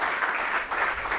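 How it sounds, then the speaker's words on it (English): A short burst of steady audience applause for a volunteer at a skill development council talk, a dense wash of clapping at moderate distance with no voice over it. "please give Roshni a big hand"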